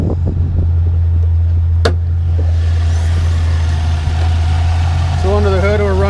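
A supercharged 2010 Chevrolet Camaro SS with a Magnuson supercharger idles steadily in a low, even rumble throughout, with a brief sharp click partway and faint voices and a whine over the top near the end.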